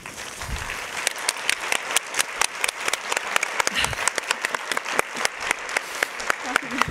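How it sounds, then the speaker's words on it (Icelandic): A conference audience bursts into sustained applause, dense clapping throughout with a voice briefly audible underneath. "biðja ykkur allir bara rísa á sæti og gefum Tómasi gott klapp."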